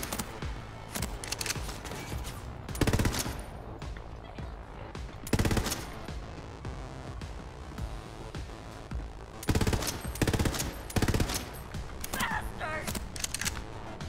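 Gunfire in the shooter game Borderlands 3, with several loud bursts of rapid automatic fire broken by quieter stretches of game noise and voices talking.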